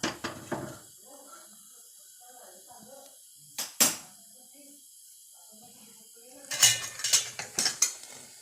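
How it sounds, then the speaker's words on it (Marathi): A metal pot holding a lump of butter is set onto a gas stove. Sharp metallic clanks ring out near the start, once in the middle and in a cluster near the end, with quiet speech underneath. "आता आपण गॅसवर आपल्या लोण्याचा गोळा हा ठेवूया"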